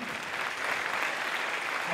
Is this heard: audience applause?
yes